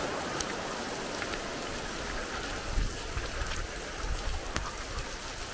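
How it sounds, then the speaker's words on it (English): Heavy rain pours steadily in the Vendée region of France, a dense hiss of drops hitting surfaces with occasional louder splatters, no voices. "It is absolutely hammering it down with rain here."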